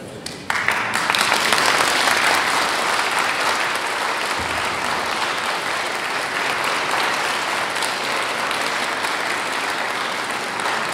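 Audience applause follows a children's concert of Christmas carols and pastorals in Wisznice, a dense, loud and sustained clapping from a large crowd with no talking over it.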